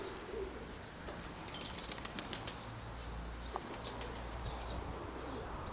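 A dove coos softly amid wing flaps and faint chirps, with a steady low hum underneath, quiet and close without any voices.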